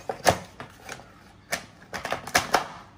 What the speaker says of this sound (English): it could be a bit of a noise when the knife hits the deck